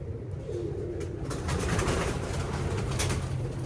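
Low, soft cooing of a seven- to eight-year-old pigeon held up close, a murmuring warble over a hum of background noise, with no talk.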